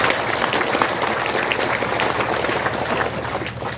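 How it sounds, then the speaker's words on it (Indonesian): Steady, dense applause from a congregation at a thanksgiving gathering for a religious brother's perpetual vows in Watugase, continuous and fairly loud for a few seconds with no talking. "Mau tepuk tangan untuk Mama Lori kan?"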